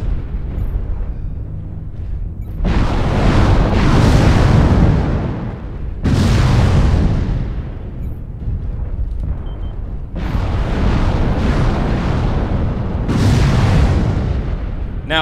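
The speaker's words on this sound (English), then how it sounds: "if you're wondering why that Atlas is shooting so many missiles" Long-range missile salvos launching and exploding in MechWarrior Online, heavy rumbling booms in several long bursts separated by brief lulls, loud and dense with no talk.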